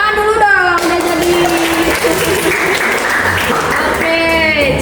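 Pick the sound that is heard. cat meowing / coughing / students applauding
students applauding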